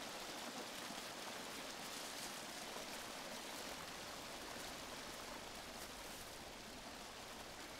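Quiet, steady broadband rush of flowing water from a stream in the swampy Amazon jungle of Green Hell, continuous and even throughout with no talk.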